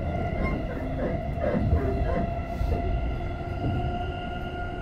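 A Tokyo Metro subway train on the Chiyoda line runs toward Ayase, giving a loud, continuous rumble and rattle with a steady whine from the motors and no voices.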